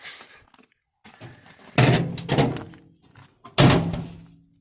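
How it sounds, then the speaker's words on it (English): Door of a 1974 Ford F250 truck closing, with some faint rattles and handling noise, then two heavy, close metallic slams about two seconds apart, each followed by a short decay. "Doors closed."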